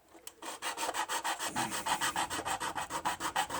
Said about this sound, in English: file off a little more somewhere